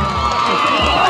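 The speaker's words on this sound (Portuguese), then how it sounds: "Bateu pra fora e a torcida aplaude." Spectators at the Copa Eldorado 2022 amateur football final, Atlético da Raposa against São Paulo Olho D'Água do Mato, react after a free kick goes wide, a continuous dense roar of cheering and shouting that stays steady and fairly loud throughout.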